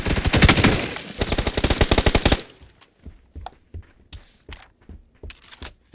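Machine gun fire in PUBG on the Vikendi map: a loud, rapid sustained burst for about two seconds, then scattered single shots and short pairs further off.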